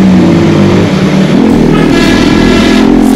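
Motorcycles and a scooter racing on a road, among them an NS 200, a Pulsar 180 and a Scooty, their engines roaring loud and close and revving steadily throughout with no voices.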